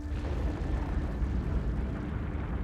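A massive explosion, depicted as the Halifax Explosion from the munitions ship Mont Blanc, comes through as a steady, dense roaring rumble that fills the whole stretch with a heavy low-end boom and no break.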